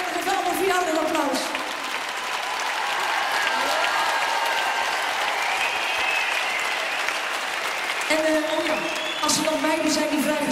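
A concert audience applauds steadily for about ten seconds at a show, with a voice talking over the clapping at the start and again near the end.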